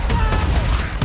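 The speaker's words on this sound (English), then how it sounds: "Returning gunfire in the streets of Cairo." Rapid, dense gunfire crackles in Battlefield 6, a loud, continuous fusillade of overlapping shots in a burst about one second long.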